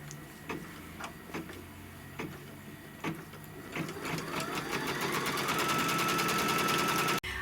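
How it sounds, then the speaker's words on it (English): An embroidery machine tacks down quilt batting, starting with a few separate loud clacks and then speeding into a continuous rapid stitching whir that holds steady at close range and cuts off abruptly near the end. "after it stitches the batting down"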